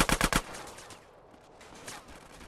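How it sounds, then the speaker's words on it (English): Gunfire in GTA San Andreas Remastered, a rapid close burst of four or five loud shots at the start, then a quieter scattered pop or two over low game ambience. "If I can just shoot him from a distance, that would be really nice"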